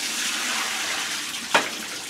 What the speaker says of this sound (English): Now we'll carefully add our t-shirt and Clorox solution